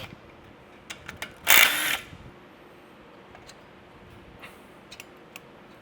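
A power tool, likely an impact gun, is used to take apart an ACT twin disk clutch. It gives one loud whirring burst of about half a second amid scattered metallic ticks and clicks, close by and without talk.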